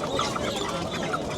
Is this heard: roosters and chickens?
yes